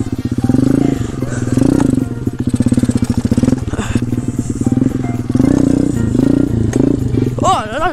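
A pit bike engine revs and drones steadily while being ridden, loud and close for the whole stretch with rising and falling pitch, and a voice briefly heard near the end.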